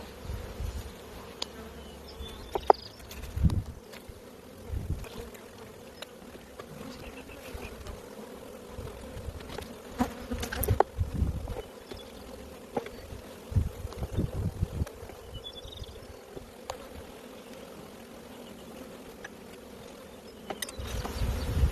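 Michigan honey bees buzzing around an open hive in spring, a constant close drone with scattered knocks and bumps from hive handling, and no one speaking.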